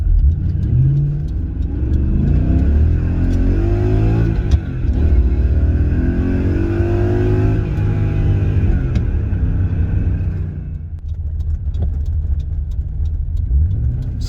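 A 1984 BMW E23 with a V8 swap and manual gearbox pulls away while driving, its engine rising through revs in a rumbling climb. The revs then ease off as it shifts, and the engine hums on more quietly, with no talk.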